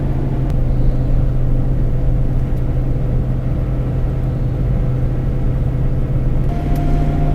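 A 1984 Pontiac Trans Am drives along the road with a steady, loud engine drone and a constant low rumble from inside the car, holding a fairly even pitch throughout.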